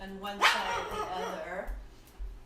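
A single loud bark rings out nearby over a person speaking calmly, followed by softer background sounds.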